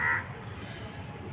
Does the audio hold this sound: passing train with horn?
no